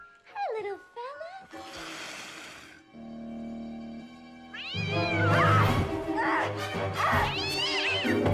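Cat meows ring out loudly and close, several drawn-out, wavering yowls building toward a caterwauling cry, with a burst of noise and a steady hum in between.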